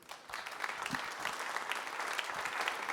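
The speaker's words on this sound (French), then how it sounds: "Merci, on peut les applaudir." A crowd applauds partners at the official presentation of the Golden Globe Race skippers in Les Sables d'Olonne, with a dense, continuous wash of clapping that builds quickly and holds steady, with no speech over it.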